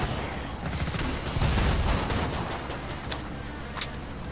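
Gunfire in Killing Floor 2 rattles as a steady, busy stream of shots and impacts under a dense game soundscape, with a couple of sharper bursts toward the end.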